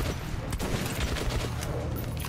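A shotgun and other gunfire in the video game Metro Last Light crack repeatedly in a dense, noisy fusillade with a constant rumble underneath.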